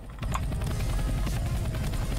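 A Roblox helicopter whirring in a steady, loud, dense drone with continuous rotor noise and no pauses, filling the whole stretch.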